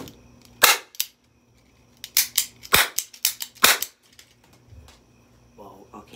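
A toy cap gun fires a series of sharp, loud snapping pops, some single and some in quick bunches, with brief quiet gaps.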